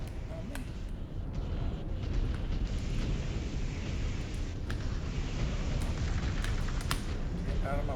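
Continuous rumbling explosions and missile impacts from the MechWarrior 5: Clans mech combat game, a dense, loud roar with scattered sharp bursts throughout.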